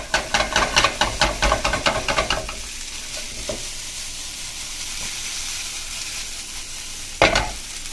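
Vegetable lo mein noodles sizzle and hiss in a wok as tongs toss them in rapid rhythmic scrapes for a couple of seconds, then frying settles into a steady hiss with one more sharp clatter near the end.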